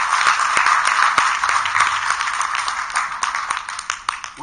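Audience applause fills a conference panel hall, a steady wash of many hands clapping with scattered sharper claps standing out, continuous and fairly loud throughout.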